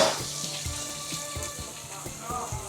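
Cloves and bay leaves sizzle in hot oil for chana masala, a steady soft frying hiss with faint crackles and a low background hum, close and without talk.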